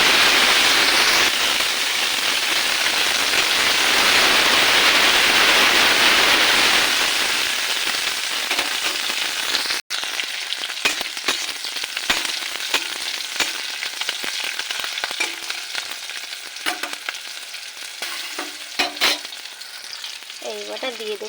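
Chilli, onion and garlic hit hot white oil and fry with a loud, dense sizzle that gradually thins into quieter crackling and spitting, broken by scattered sharp pops and stirring sounds.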